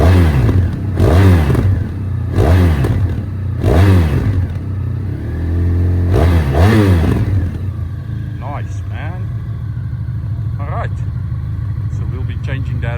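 A Honda VFR1200X motorcycle engine revs hard through an aftermarket exhaust pipe, with several loud rising blips over a steady idle, close up, followed by idling with faint talk.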